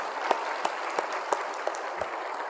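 Church congregation clapping during a Sunday worship service, a soft wash of hands with a few sharper claps standing out at a steady beat, moderately distant.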